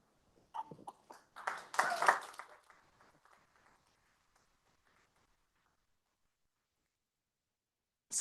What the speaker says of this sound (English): that's not going to be Dale's last round of applause for this conference